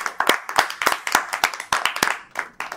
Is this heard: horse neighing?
no